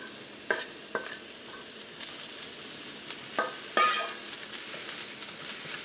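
Ground beef and onions frying in a pan over a medium flame for cutlets, a steady soft sizzle broken by a few scraping stirs of a spoon, close and quiet, with no one talking.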